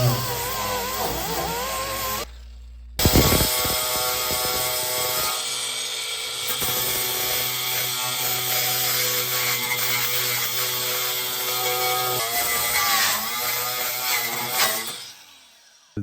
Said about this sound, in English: I have a wire wheel on my die grinder that I'm going to use